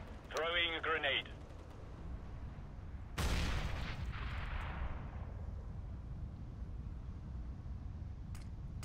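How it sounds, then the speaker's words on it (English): A grenade exploding in CS:GO competitive play on the Cobblestone map: one sudden, loud blast followed by a long, fading rumble, preceded by a brief tonal burst and set against low, steady background game noise. "Throwing a grenade."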